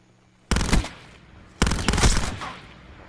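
Two loud, close bursts of automatic gunfire from Call of Duty Black Ops 4, each a rapid rattle of shots lasting about a second, separated by a short pause.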